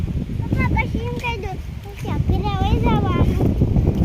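Strong wind buffets the microphone in a constant low roar while a person talks over it.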